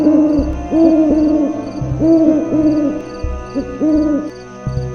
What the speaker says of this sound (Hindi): दूर कहीं उल्लू की आवाज आई।